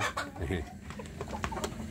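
Free-range village chickens cluck in short, irregular bursts at close range, with a steady murmur of other fowl underneath.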